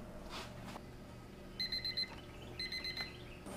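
Kitchen timer going off during cooking, two short bursts of rapid high beeping, close and clear, with no talking.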